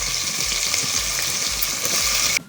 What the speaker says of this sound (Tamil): இப்போ வெங்காயத்தை சேர்த்துப்போம்.